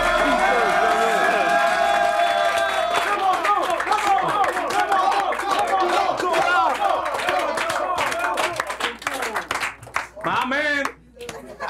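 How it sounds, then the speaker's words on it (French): Studio audience applause at a French game-style show, a dense patter of clapping mixed with voices and some background music, loud at first and thinning toward the end. "Applaudissez le maître du"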